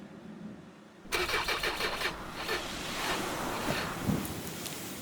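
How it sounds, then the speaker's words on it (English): A car engine in the video game Far From Noise cranks and fails to catch, a sudden loud mechanical churn that starts abruptly and then sputters and rumbles on steadily without settling into a clean idle. "I tried to turn my engine on."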